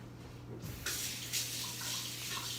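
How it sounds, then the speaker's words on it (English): A kitchen tap running while hands are washed, a soft steady hiss of flowing water that starts abruptly after a moment of quiet, with faint splashing fluctuations, fairly quiet and close, no talking. "I'm going to go wash my hands."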